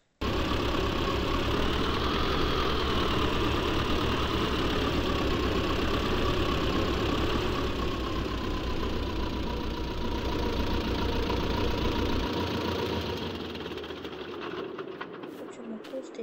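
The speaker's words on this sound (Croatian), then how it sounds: "Idemo s drugim traktorom" Tractor engine idling in Farming Simulator 22, a steady loud mechanical drone with a low rumble that holds for most of the stretch, then drops away toward the end.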